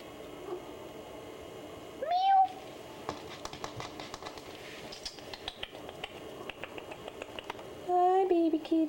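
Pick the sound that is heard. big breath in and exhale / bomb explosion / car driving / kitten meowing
kitten meowing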